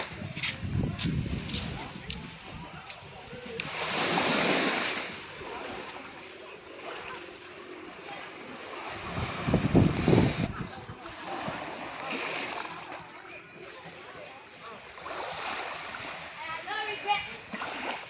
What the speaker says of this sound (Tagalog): We are going to be walking in the ocean by the beach at night.